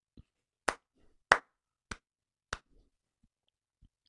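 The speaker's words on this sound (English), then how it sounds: "let me give you one last clap" A few single hand claps by one person, about five sharp, spaced, fairly loud claps at a slow, uneven pace in a quiet room.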